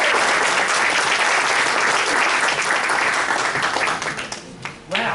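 A packed audience at a fundraising academy event breaks into loud, sustained applause to welcome the director of a philanthropy institute as guest speaker; dense clapping fills the room and thins slightly in the last second.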